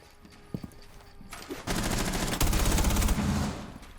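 Automatic gunfire from a weapon in Rainbow Six Siege, a loud sustained burst of rapid shots that starts after a couple of faint clicks and runs for about two seconds without pause.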